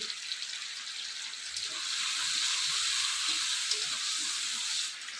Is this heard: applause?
no